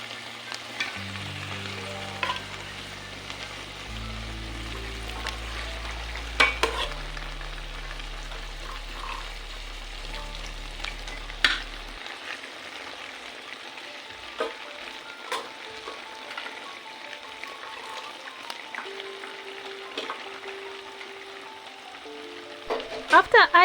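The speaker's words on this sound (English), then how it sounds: "I opened the pot and added the boiled maize and beans into the fried potatoes mixture. I mixed everything together gently." Fried potatoes mixed with boiled maize and beans in a pot for githeri are stirred gently, giving soft sizzling and intermittent scraping knocks from a spoon against the pot, with low background sounds and no clear talking.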